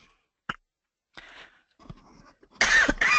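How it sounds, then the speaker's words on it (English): A person getting over a cold coughs: a single short cough, then a throat sound, followed by two louder, harsh coughs close to the microphone in an otherwise quiet room. "I still haven't managed to kick this cough all the way."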